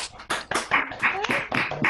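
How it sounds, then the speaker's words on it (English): A few people clapping over a video call, several separate sharp claps in an uneven rhythm, close and fairly loud. "Can you hear us clapping?"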